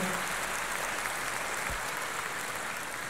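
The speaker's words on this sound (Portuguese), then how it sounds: "Nossa salva de palmas tradicional" A church congregation applauding together, dense continuous clapping filling the room at steady loudness throughout.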